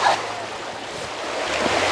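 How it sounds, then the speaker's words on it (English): Rushing river water during an outdoor river crossing at a farm in Paete, a steady loud broadband wash with wind buffeting the microphone, no talking over it. "Ito yung tinatawag, river crossing."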